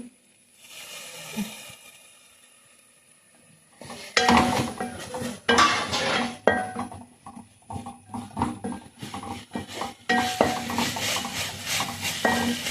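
Spoon scraping and stirring in a pan as pearl spot fish curry with fried fish masala is sautéed, irregular clattering metallic knocks, loud and close, with no talk.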